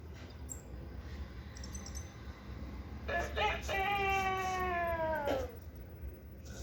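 EMO desktop pet robot mimicking a chicken with a short burst of high, warbling electronic clucks over faint room noise, preceded by a few tiny chirps.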